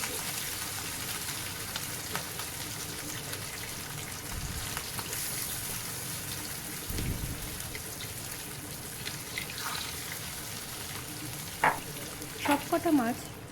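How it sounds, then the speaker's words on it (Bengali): Marinated katla fish pieces fry in oil and ghee over medium heat, a steady close sizzle running throughout, with a few brighter crackles and light clinks near the end. "সেই অবস্থায় ম্যারিনেট করে রাখা মাছের টুকরোগুলো একে একে দিয়ে দেব।"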